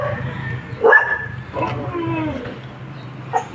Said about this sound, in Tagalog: Sorry, maingay na, maraming aso